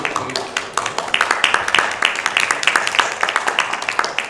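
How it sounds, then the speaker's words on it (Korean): Graduate school forum audience gives another round of applause, a moderate burst of distinct claps in a loose rhythm that keeps going steadily. "다시 한번 박수"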